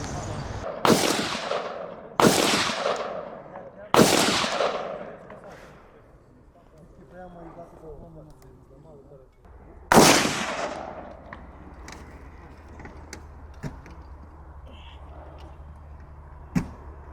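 Rifle shots ring out at a professional multi-event competition, several loud single reports spaced a second or two apart, then a pause and another sharp shot followed by fainter pops and quiet background noise.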